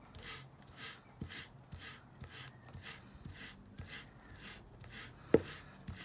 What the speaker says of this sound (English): I'm just obviously getting the roller, trying to get most of the resin off, just scraping it on the bucket edge.